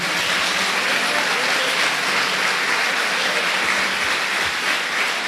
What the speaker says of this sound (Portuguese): Aplauda o Senhor Jesus nessa noite.